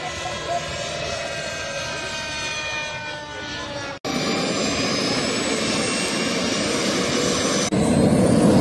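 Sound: model helicopter engine

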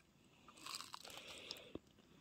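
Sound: biting crunchy fried purple sweet potato

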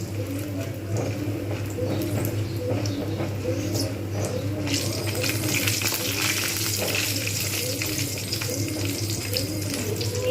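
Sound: frying in a pan until reddish

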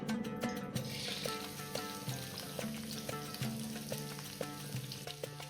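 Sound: onion frying in hot oil on a pan

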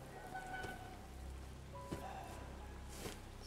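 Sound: rain in video game Resident Evil 7

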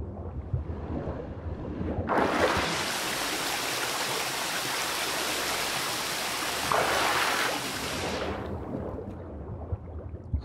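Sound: water pouring down a wall, from the video game The Witcher 3

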